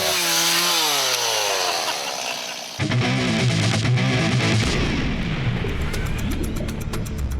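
A chainsaw revs and roars up close, its harsh buzzing engine cutting in sharply after a brief musical passage and running loud to the end.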